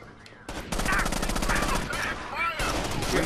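Rapid automatic gunfire in Rainbow Six Vegas 2, loud sustained bursts of close shots with ricochet-like whines, starting after a brief quieter moment.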